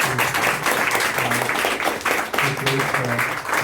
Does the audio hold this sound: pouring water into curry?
no